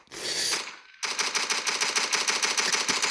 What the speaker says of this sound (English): Just open fire on this thing.